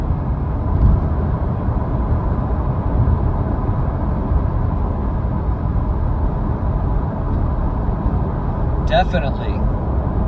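A car driving in Track mode gives a steady, loud road and engine rumble throughout, with a brief spoken word near the end.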